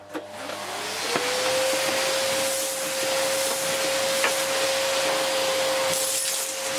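Lux 1 Royal D820M vacuum cleaner switched on in auto mode, a motor whine rising within the first second to a steady loud tone with constant airy hiss, with a couple of faint clicks.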